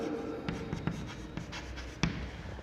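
A pen writes out a triangle equation for a maths lesson, giving quiet, steady scratching strokes with a few sharper taps, alone and close.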